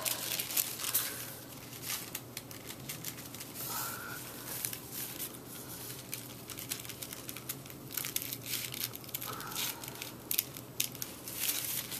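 Dull scissors snip and crunch through paper dress pattern pieces for a 1955 Simplicity dress, with repeated rough cutting strokes and crinkling paper, close and continuous over a faint steady room hum.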